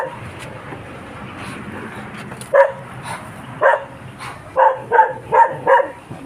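A dog barks in short bursts, a single bark followed by a quick run of four or five, fairly close against a quiet outdoor background with faint murmuring.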